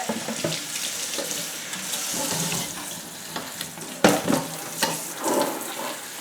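Tap water runs and splashes as a Phalaenopsis orchid gets rinsed at a sink, a steady close gush broken by a few louder spatters and drips toward the end.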